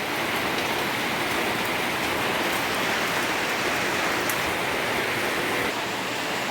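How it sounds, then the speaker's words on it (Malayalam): Heavy evening rain pours steadily around a home in Kerala, a dense, unbroken hiss of drops with no voices and no letup. "നല്ല പെരുമഴ പെയ്യുന്നുണ്ട്."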